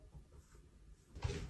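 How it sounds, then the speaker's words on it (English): A room door pushed open by air from a vent gives a soft low thump and creak near the end, quiet and close after a stretch of faint room noise. "See, dude, the vent pushes the door."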